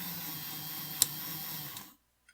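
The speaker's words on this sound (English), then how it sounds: "You can actually hear it clicking" An Electrotren NCB 0-6-0 steam tank model locomotive runs with a faint steady whir, broken by one sharp, distinct click midway, before the running sound cuts off to near silence.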